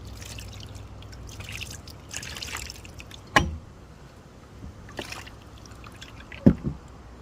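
Tamarind seeds rinsed in cold water: water trickles and splashes in short bursts, with a couple of sharp clicks and knocks standing out against a quiet background.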